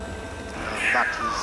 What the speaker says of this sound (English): a call of desperation with a cub